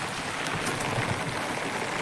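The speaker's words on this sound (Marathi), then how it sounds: "लय पाऊस आहे" Heavy rain pours down during a Ganesh idol arrival procession, a dense, continuous close hiss and patter with no voices.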